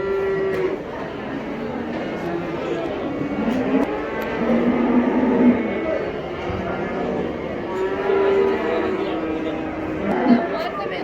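Male calves about five months old moo at a livestock market in Taraz, several drawn-out calls rising over a busy crowd of talking voices and yard noise.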